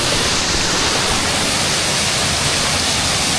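A small mountain waterfall roars in a steady, loud, close rush of falling water that holds constant throughout, with no voices.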